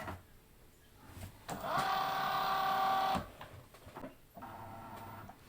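A Cricut cutting machine works on printable iron-on, whirring and ticking as its carriage moves back and forth across the material. A sustained motor run in the middle is set between shorter mechanical bursts.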